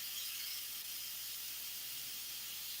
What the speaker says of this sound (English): You're forcing the steam to release.